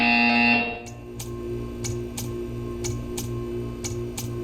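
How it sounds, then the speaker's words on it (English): A test-chamber buzzer from the video game Portal 2 sounds as a series of about eight evenly spaced, sharp electronic pulses over a steady low synthetic hum, following a brief tonal tone at the start. "You will hear a buzzer. When you hear the buzzer, stare at the art."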